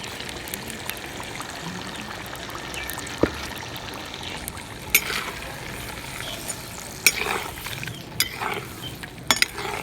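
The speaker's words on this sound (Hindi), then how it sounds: "कुकिंग ऑयल गर्म हो गया है, चिकन ऐड करेंगे।" Chicken leg pieces sizzling and frying in hot cooking oil in a karahi at a village cookout, a steady bright crackle with occasional sharper pops and stirring clatters, no voices.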